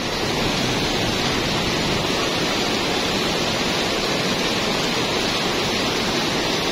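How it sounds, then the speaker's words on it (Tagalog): Very heavy rain pouring at night during the first downpour of the month, with flooding on the road, a dense unbroken roar of water that stays loud and constant throughout. "yung ulan ngayon pambihira, sobrang lakas"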